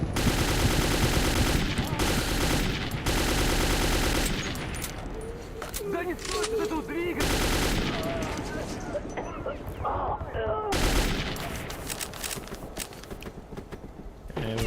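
Rifle fire in Metro 2033 crackles in loud, dense bursts with mechanical clatter between volleys, a voice talking over parts of it.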